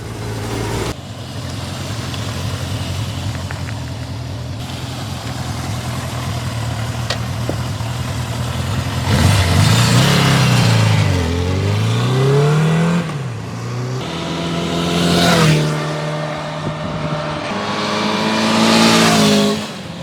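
A 1978 Suzuki GS550E motorcycle on new tires with Race Tech front suspension idles steadily, then its engine rises and falls through several loud revving sweeps as it pulls away and shifts, close to the listener, with no talk.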